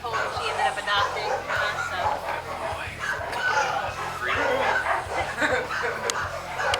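Rescued pit bull dogs barking from a back room, a steady chorus of overlapping barks and yips under ongoing talk.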